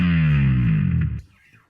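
Electric bass run through an HX Stomp pitch effect with distortion, a loud distorted note that slides steadily downward in a dive bomb, then cuts off and fades into a brief quiet tail.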